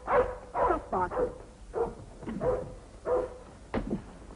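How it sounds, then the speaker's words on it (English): A dog barks repeatedly at the foot of the stairs in an old film scene, giving about eight moderately loud, evenly spaced barks at close range. "Stop barking."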